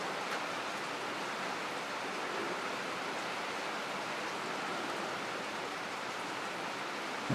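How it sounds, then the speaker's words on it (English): Rain falling outside an off-grid cabin: a steady, even hiss of dense drops that holds unchanged throughout, soft and enveloping with no voices. "I like to listen to the rain."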